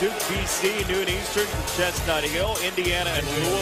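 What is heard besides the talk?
No distinct noise like a dog, phone or traffic.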